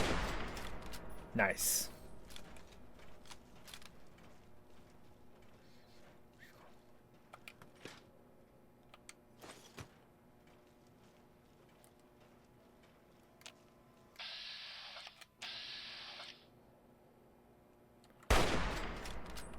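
Gunfire in the video game Fallout 3, with a few sharp isolated shots spread across a quiet stretch, a short burst mid-way, and a loud blast at the end, under a brief spoken remark.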